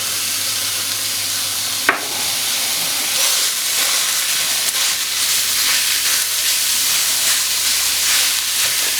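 Seasoned ground beef fries in a pan with a loud, steady sizzle and hiss close by, one sharp clack early on and some stirring further in; no speech.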